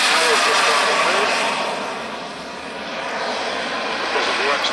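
RC turbine-powered Vulcan model jet flying past with its undercarriage down: a loud, continuous turbine roar with hissing whine that swells, dips slightly midway, then builds again as the model passes overhead.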